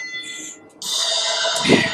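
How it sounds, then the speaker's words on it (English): A workout interval timer buzzer in a bodyweight HIIT session sounds a loud, sustained electronic tone of about a second and a quarter, alone and close. "Make sure you're ready to go on the buzzer."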